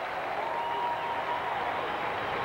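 A packed stadium crowd of more than 40,000 in Arlington, Texas stands and applauds a pitcher leaving the mound after his twelfth strikeout, a steady, dense roar of clapping and cheering that holds evenly throughout.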